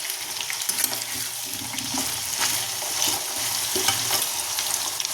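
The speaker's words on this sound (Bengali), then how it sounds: "তাই আলুগুলো ভেজে নিচ্ছি" Potatoes sizzle steadily in hot oil in a kadai for a Bengali aloo dum, with a continuous close frying hiss and occasional stirring scrapes, no talking.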